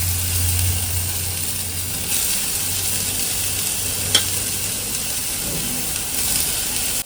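Onion, green chilli and chopped takla greens frying in hot oil, giving a steady, even sizzle and hiss with a faint low hum beneath and one brief clink, close and alone.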